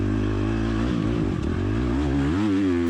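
A motocross dirt bike revs hard across a field section during an MXGP race, its engine loud and close throughout, rising and falling in pitch as the rider pushes on without a break.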